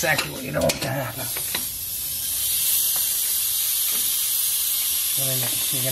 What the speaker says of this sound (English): you're gonna hear that compressor kicking because my fitting leaks